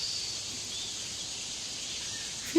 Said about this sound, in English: the sound of chirping birds and buzzing cicadas in the forest